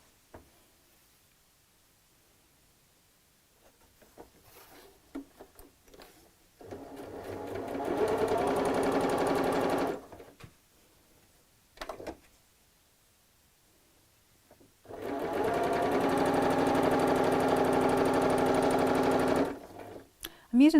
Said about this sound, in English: I'm using the Butterick sewing machine, by the way.